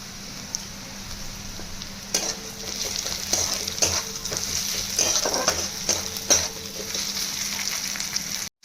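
Green chillies fry with chicken in a pan, a steady close sizzle broken by scraping stirs and occasional clinks of the utensil against the pan.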